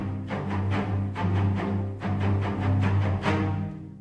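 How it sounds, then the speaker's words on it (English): Low orchestral strings on violoncello play short staccato notes from a sample library, a steady run of detached bowed strokes with a sustained low body, heard alone without talk. "strings sound like this"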